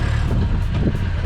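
A 1984 Mitsubishi Jeep creeping in reverse after a junkyard transmission swap, its steady low engine and drivetrain rumble continuous and close, with some wind buffeting on the microphone.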